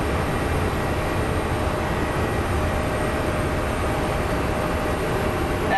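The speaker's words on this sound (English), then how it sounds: "That's our Delta Connect from Durango." Delta Connection airliner arriving from Durango at Phoenix Sky Harbor airport, a broad steady jet roar held at constant loudness, heard from a distance without talk.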